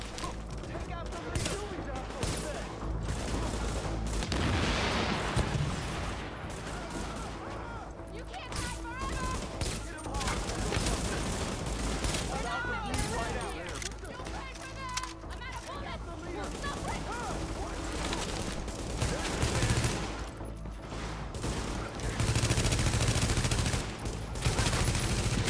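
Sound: gunfire in video game The Division

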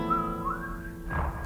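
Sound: person whistling

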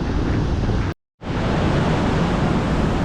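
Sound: waves at Kovalam beach, Thiruvananthapuram

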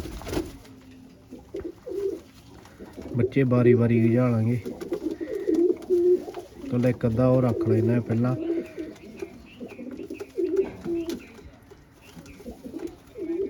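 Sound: pigeons and chicks cooing

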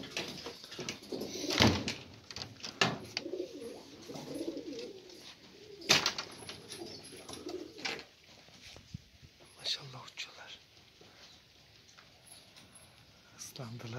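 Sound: pigeons cooing

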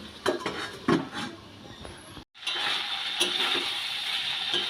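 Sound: lid placed on cooking pot

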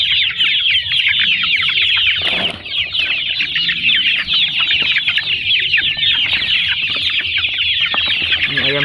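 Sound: joper chickens clucking while eating fermented feed

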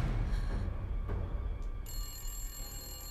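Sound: telephone ringing

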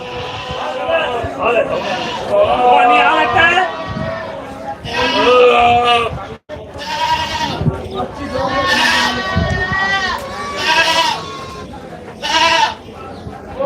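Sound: goats bleating at a goat market

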